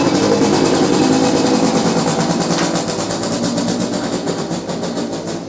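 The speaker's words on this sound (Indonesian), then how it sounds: "Ada suara motor ya, tenang saja." A motorbike engine passes outside, a loud buzzing drone that holds steady and then eases slightly as it moves away.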